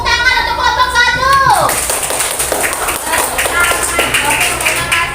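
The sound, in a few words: classroom clapping for group 1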